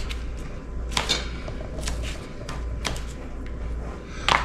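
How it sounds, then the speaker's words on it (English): Jalapenos are chopped with a knife on a cutting board in a kitchen, producing a handful of scattered, fairly faint taps and knocks over a low background hum. "jalapenos and I'll start chopping them up a little bit more."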